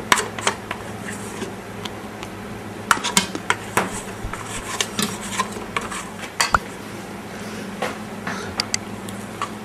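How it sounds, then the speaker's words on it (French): A spatula folds meringue into macaron batter in a mixing bowl, producing soft scraping strokes punctuated by light clinks and taps against the bowl at irregular intervals, close by and fairly quiet. "venir mélanger délicatement en partant du centre jusqu'à ce que la masse soit bien homogène."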